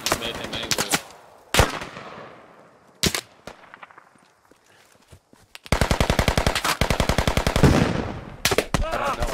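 Loud gunfire in the Squad video game: a few single shots with echoing tails, then a long rapid automatic burst, close and sharp, with brief talk in between.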